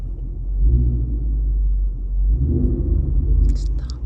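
A 2015 Ford Mustang GT engine rumbles steadily at idle in neutral, swelling slightly as it revs, with a brief higher mechanical whine near the end.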